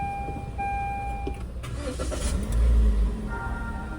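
A car engine cranking and catching after a battery replacement, with a brief starter whir followed by a low rumbling surge as it fires up, close and steady, no talking.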